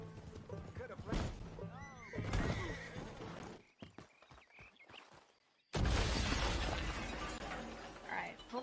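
A horse whinnies in the survival horror game A Quiet Place: The Road Ahead: a short neigh early on, then scattered thuds, then a sudden loud crash that runs to the end.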